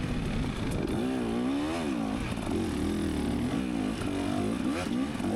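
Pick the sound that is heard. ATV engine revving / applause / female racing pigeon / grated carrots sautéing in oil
ATV engine revving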